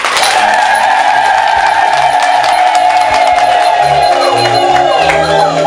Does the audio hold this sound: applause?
yes